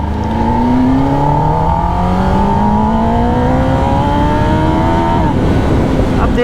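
A Kawasaki liter-class superbike revs hard through first gear in sport mode, its engine note climbing steadily and loudly for about five seconds before easing off, with no talk over it.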